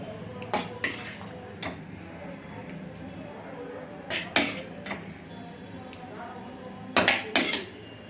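Metal utensils clink against a pot and dish as Bengali potato dum is scooped into a serving bowl. The sharp clinks come in pairs and small clusters over a low kitchen background.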